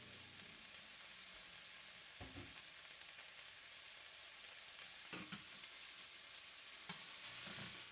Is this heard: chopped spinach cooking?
yes